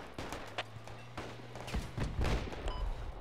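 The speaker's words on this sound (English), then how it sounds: "Lots of gunfire." Repeated gunfire in the tactical shooter Project Reality during urban combat in Fallujah, with several loud close shots and bursts over a busy background of distant firing.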